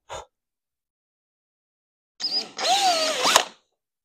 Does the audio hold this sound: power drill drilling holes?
yes